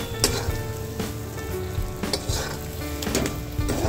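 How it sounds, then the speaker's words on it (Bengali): Dried fish, shutki, sizzles in its own released oil in a pan, a loud crackling fry close by with several sharp spatula scrapes and knocks against the metal, no one talking. "এই যে শুটকিটা হয়ে আসছে, তেল বেরিয়ে আসছে।"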